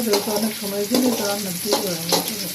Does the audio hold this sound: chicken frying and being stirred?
yes